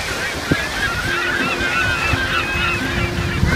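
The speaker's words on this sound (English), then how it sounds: "Look at the chickens." Birds honk and squawk repeatedly on a beach in Cebu, their calls riding over loud, steady surf and wind.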